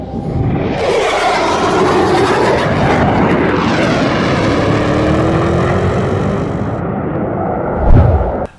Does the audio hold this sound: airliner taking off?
yes